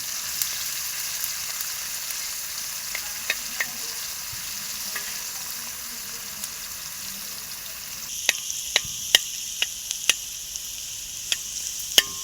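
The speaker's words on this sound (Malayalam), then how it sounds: "ഇതിലാണ് വറുത്തെടുക്കണം" Potato skins frying in hot oil give a steady sizzling hiss throughout, with scattered sharp crackles and pops that grow sharper and more frequent in the last few seconds; no one speaks.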